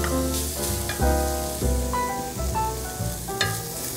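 Chopped crispy meat for muntahu frying in a hot pan, a loud steady sizzle with a few sharp bursts and scraping stirs running throughout.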